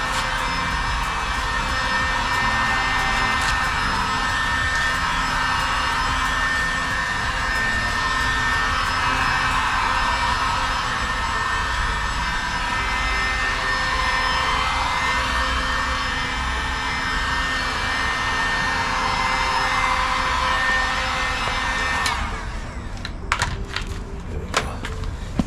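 A small heat gun blows hot air steadily onto a car driveline during painting, a loud unbroken airy roar with a faint whine, ending in a few clicks and knocks as it is handled.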